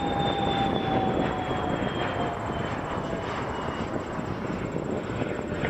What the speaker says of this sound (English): Air Canada 799 to Salt Lake City, A220. Runway 23 departure.